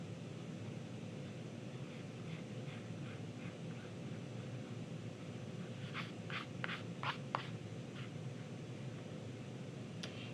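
Charcoal sketching an eye on paper: faint scratchy strokes, a few slow ones and then a quicker cluster of short rasping marks, heard close but soft beneath a steady background hiss.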